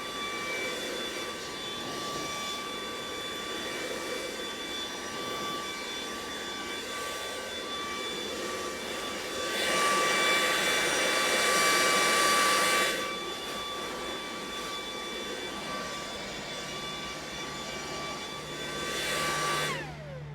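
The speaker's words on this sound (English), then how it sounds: "That's in turbo mode." A Makita 40V Max XGT battery leaf blower runs in turbo mode, a loud steady high-pitched whine and rushing air that swells louder for a few seconds midway, then settles back to a constant roar.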